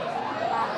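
An ambulance siren wails continuously and loudly in a brief steady burst, close by, with no talk over it.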